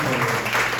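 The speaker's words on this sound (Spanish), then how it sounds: "Den un aplauso a Cristo" A church congregation claps together in a brief, dense, steady wash of applause that fills the room.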